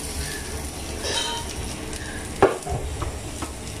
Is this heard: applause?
no